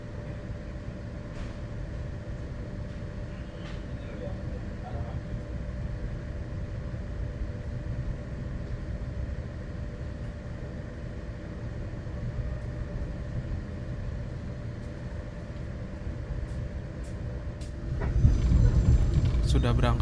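Banyu Biru passenger train from Solo to Semarang departing and running, heard from inside as a steady low rumble of the moving carriage, growing heavier and louder near the end.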